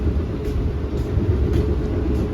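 Inside the Ranggajati executive passenger train in motion, a steady low rumble of wheels on track with a constant cabin hum and faint periodic clicks, close and even.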